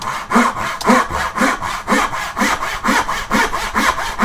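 Hand saw cutting wood in steady, rhythmic back-and-forth strokes, about two per second, loud and close with no talk.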